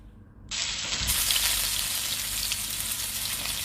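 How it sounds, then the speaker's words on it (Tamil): Mustard seeds and curry leaves hit hot coconut oil in a pan, bursting into a loud, dense sizzle that keeps crackling without a break, close and steady, with no talk. "இந்த கடுகு நல்லா பொரிஞ்சு வந்ததும் அதில் கருவேப்பிலை,"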